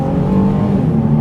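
A 2006 Nissan 350Z Grand Touring Roadster with an automatic transmission revs its engine up close, a loud, smooth, sustained growl with a steady pitch and no voices over it.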